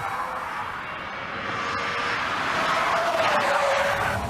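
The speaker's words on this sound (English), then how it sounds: "I'm sorry, this whine doesn't get me in the mood for track driving." A BMW E39 on a race circuit gives a steady, rising engine whine with broad road and wind roar, continuous and fairly loud throughout with no talking.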